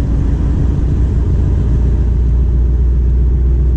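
A car held in 7th gear at very low RPM, accelerating slowly with a steady, deep engine rumble that stays constant and fairly loud throughout, with the exhaust barely audible.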